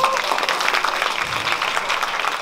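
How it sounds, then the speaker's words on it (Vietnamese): A crowd at a party product launch claps steadily, dense and sustained applause from start to finish. "Các bạn cho cái sticker này một tràng pháo tay được không ạ?"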